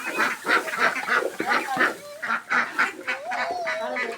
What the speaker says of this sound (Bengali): বাপরে বাপ হাঁসের চিল্লান রে